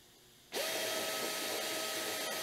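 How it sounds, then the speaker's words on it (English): After a short quiet moment, a power drill whirs up and drills a hole in the nose of a turbocharged Mustang, running steadily at a loud, even pitch, close by, without pause. "we've begun to drill the hole in the nose of this turbocharged Mustang"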